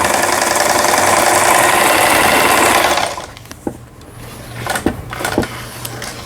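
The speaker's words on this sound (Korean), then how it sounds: "오버록 스티치 정상 박음질 되고 있습니다" A Lion household sewing machine, just repaired, runs fast and steady for about three seconds sewing an overlock stitch, its motor and needle drone loud and close before stopping, followed by a few light mechanical clicks and thumps.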